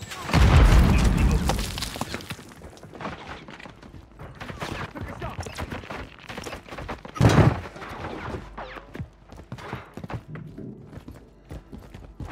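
In the Warzone 2 shooter, a Semtex grenade goes off as a booming thud near the start, with a second sharp blast a few seconds later, both amid ongoing gunfire and game sounds as a voice speaks intermittently.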